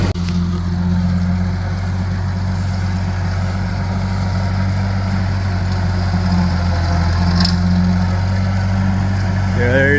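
A vintage Ferguson TO35 tractor runs on a homestead while bush hog cutting, its engine holding a steady, close, low throbbing hum with little change in pace.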